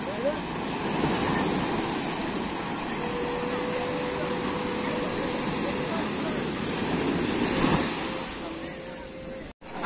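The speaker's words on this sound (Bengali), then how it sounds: "দেখো কি সুন্দর সমুদ্রের ঢেউটা আসবে, ঢেউতেই তুলবে" Sea waves break on the beach at Puri in a continuous loud wash of surf with wind rumble and a faint tonal hum running through, swelling near the end.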